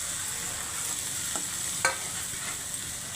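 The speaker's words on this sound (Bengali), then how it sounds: "মশলাটাকে কষতে দেবো একটু জল দিয়ে, তাহলে কি হবে, মশলাটা পুড়বেও না আর কষাটা ভালো হয়" Bengali-style masala spice paste frying with a little water for katla fish kalia, a quiet steady sizzle with a couple of brief stirring scrapes, close by.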